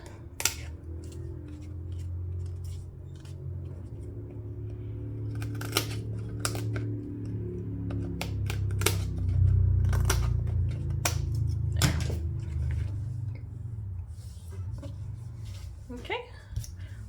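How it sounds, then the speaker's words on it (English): Scissors trim a cardstock card base, producing a series of sharp, brief cutting snips and rustles close up over a low background hum. "And then I'm going to trim off"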